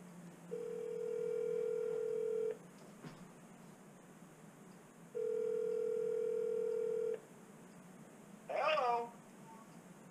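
Phone call being dialed: two long steady dial-tone stretches separated by a short click, then a quick burst of dialing tones near the end, fairly faint over a low room hiss.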